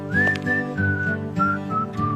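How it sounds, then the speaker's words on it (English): A person whistles a simple tune alone, a bright clear melody of sustained notes that slide between pitches in a few short phrases, close and fairly loud. "Whistling in public during those dark times was seen as inviting absolute chaos."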